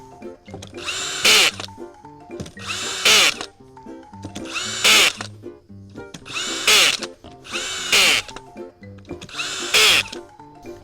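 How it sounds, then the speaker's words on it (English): Power drill driving T15 screws into Trex composite decking, six evenly spaced bursts of whirring motor, each rising briefly and stopping, with quiet handling noises between, close and loud. "when I pull the trigger on the drill, that bit is gonna come out the bottom and start spinning"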